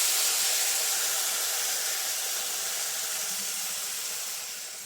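Blended tomato hitting a hot pan with spices, a steady loud broadband sizzle and hiss that holds for several seconds and eases off slightly at the end.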